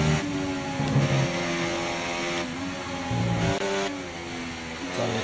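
Race car engine in F1 2024 at Silverstone, revving and accelerating with shifting harmonic tones, steady and close, with the pitch rising and dropping through gear changes.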